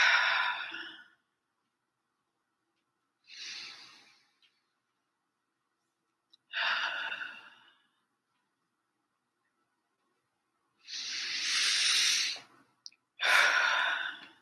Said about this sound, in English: I'm going to take 3 deep breaths to try to reset.